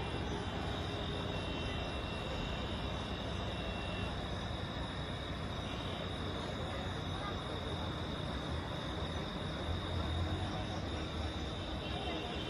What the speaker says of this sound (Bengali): এখান থেকে হচ্ছে সমুদ্রের গর্জন শোনা যায়।